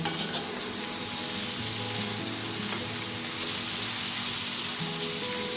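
Tomato chutney with curry leaves and coriander sautés in a pan, giving a close, steady sizzle and crackle with faint stirring, uninterrupted by voices.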